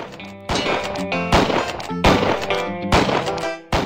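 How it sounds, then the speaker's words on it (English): Gunshots hitting cans in the Bird Assassin video game bonus round: four loud, sharp shot-and-clang impacts at roughly even intervals, each with a ringing tail, and no talking. "Shoot all the cans you can with"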